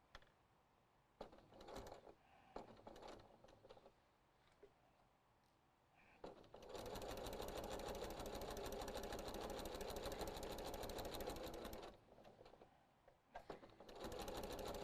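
A sewing machine fitted with a walking foot stitches a quilt-as-you-go rag quilt, starting with short bursts, then running in a loud, steady whir for several seconds before stopping and restarting briefly.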